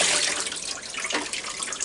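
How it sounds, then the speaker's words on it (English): Running tap water splashes steadily over beetroot being lightly rinsed in a sink, a continuous close hiss of flowing water. "I just rinse them lightly."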